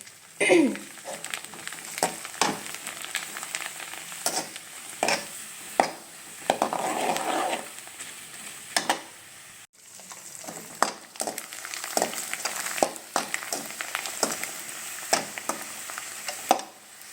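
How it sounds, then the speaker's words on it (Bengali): Papad fries in hot oil, a crackling sizzle broken by frequent utensil clinks and pan knocks, with a brief quiet gap midway. "আমি পাঁপড়টা ভেজে নিয়েছি"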